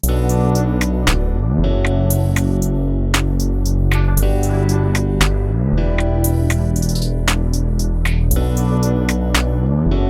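Trap soul R&B beat built on a guitar and vocal sample, with heavy bass, steady hi-hats and snare hits that repeat in a loop, loud and continuous throughout, with no one talking.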